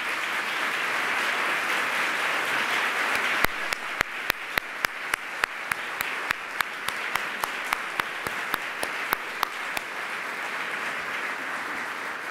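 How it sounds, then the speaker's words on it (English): Steady applause from a gala audience filling the room, a broad sustained wash of many hands joined partway through by sharp, evenly spaced close claps. "A round of applause."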